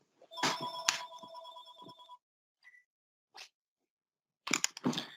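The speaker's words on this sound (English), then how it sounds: "Oh, excuse me, the phone's ringing." A telephone rings twice in quick succession during an online web forum, with clear repeating electronic tones lasting about two seconds, followed by a few faint clicks and brief rustling noises.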